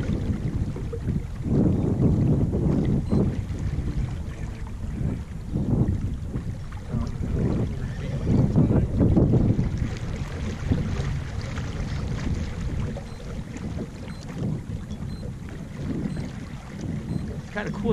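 Steady wind rushes and buffets across the microphone on a sailboat during a collegiate sailing race, a continuous low roar with gusty swells that persists throughout with no talking.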